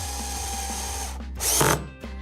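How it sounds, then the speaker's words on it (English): Cordless power drill on a medium clutch setting drives fasteners into threaded inserts while installing a Power Pole on a 2019 Hobie Outback kayak: a steady close motor whine, then a louder burst as the clutch engages near the end. "With the drill set on a medium clutch, I'm gonna go ahead and tighten the fasteners."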